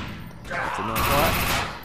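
Submachine gun bursts in the video game Defiance 2050, a dense sustained fusillade of rapid shots, loud and close, running through most of the clip with a voice faintly mixed in.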